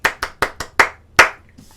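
Six sharp hand claps in a steady rhythm, keeping time with a song, with the last clap landing after a slightly longer gap, close and fairly loud with no talk.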